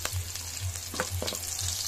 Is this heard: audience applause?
no